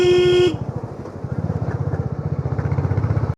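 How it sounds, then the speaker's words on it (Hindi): Motorcycles ride past on a snowy mountain road to Yamunotri: a loud horn blares for half a second, then a close engine throbs in rapid, even pulses that swell and build. "बाइकर ही बाइकर आ गए बहुत सारे।"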